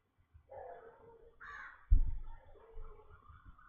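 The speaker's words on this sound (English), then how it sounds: "Oh my god, there's a bird." A crow gives several harsh, rasping caws in sequence, moderately close and fairly clear against a quiet background with a low thump midway.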